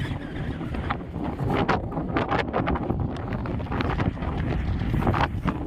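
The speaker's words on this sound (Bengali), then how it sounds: "এত জোরে হাওয়া দিচ্ছে মনে হচ্ছে উল্টে ফেলে দেবে" Strong, cold wind buffets the microphone atop Sandakphu, a gusty roar that surges and dips throughout, close and harsh, with no voices.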